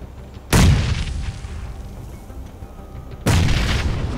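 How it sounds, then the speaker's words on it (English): Two separate deep, loud bursts, each followed by a long hissing tail, from smoke grenades going off nearby in PlayerUnknown's Battlegrounds. "it's a smoke grenade"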